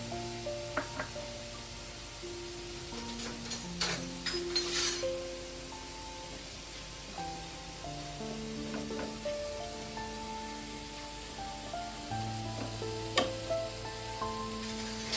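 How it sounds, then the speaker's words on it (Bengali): Semolina lightly roasting in a pan gives a faint, soft sizzle with scraping stirs and occasional light clinks of the spatula, quiet and low beneath melodic background music. "আর এপাশে ততক্ষণ হালকা করে সুজিটা ভেজে নেব একটু।"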